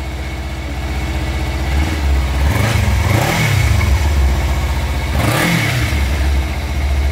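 A motorcycle engine fitted with its old muffler idles loudly and close, then revs up twice in rising and falling swells before settling back to idle.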